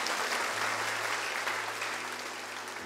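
A church congregation at a Sunday morning service claps hands together, a dense, even wash of applause that fills the room steadily with a low hum beneath.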